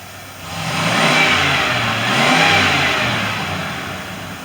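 A 1994 Ford F150 pickup engine with low power rises to part throttle, a steady mid-pitched hum that swells twice and then eases, heard close and alone with no talk.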